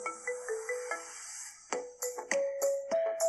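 An iPhone 7 remix ringtone plays alone, bright synth notes with sharp percussive hits, loud and close for a few seconds.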